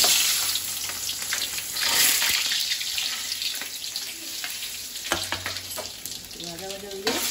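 Garam masala, dried red chilies and bay leaves sizzle in hot oil as a puja dish begins, a steady close frying crackle with occasional stirring scrapes and a brief clink near the end.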